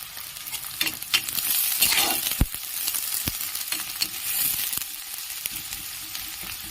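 Chopped onion hits hot oil with five-spice seeds for a fish curry. It gives a steady, close sizzle with sharp spattering pops and occasional scraping stirs.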